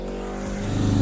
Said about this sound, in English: Let the truck pass.